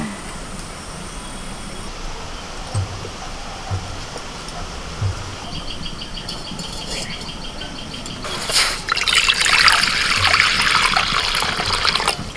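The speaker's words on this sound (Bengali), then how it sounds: "দু তিনবার জল পাল্টে মুসুরির ডালটাকে ভালো করে ধুয়ে নিয়েছি।" Red lentils are rinsed in water, with trickling and sloshing close by; the sound is faint at first, then grows into louder splashing and pouring toward the end, with no talk.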